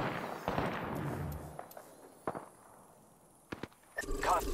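Video game gunfire from Apex Legends: a few sharp, scattered shots and short bursts at moderate loudness over a busy ambient bed, with a louder flurry near the end.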